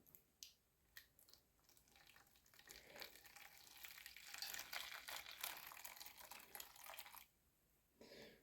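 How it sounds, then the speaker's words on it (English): Hot water is poured into a container of dye for coloring a knife, making a quiet, fizzing, crackly trickle that builds for several seconds, then stops, followed by a few soft clicks. "Add my hot water."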